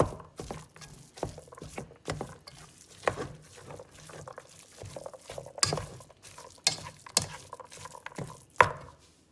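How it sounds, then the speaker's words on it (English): Onion and ground beef cooking together in a pot for chili, with repeated scraping and stirring strokes over a soft low sizzle, close and fairly quiet, no talking. "you want to add the onion and cook it with the ground beef"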